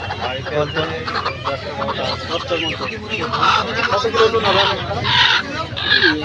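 Kadaknath chickens at a busy poultry market, their clucks and squawks mixed into a dense crowd din, with people talking over the birds throughout.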